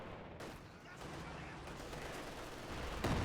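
Katyusha rocket artillery firing in a video game, a dense rumbling barrage of rapid launches and blasts, with a louder burst near the end, under a commentator talking.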